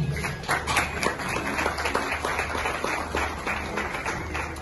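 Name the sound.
audience applause welcoming the vice-president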